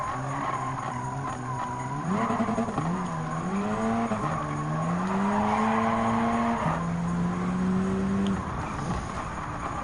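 A Peugeot Group B rally car races in Gran Turismo 7 at a Barcelona rallycross stage, its engine note climbing through gears with repeated shifts and tyre skids, loud and continuous for the whole stretch.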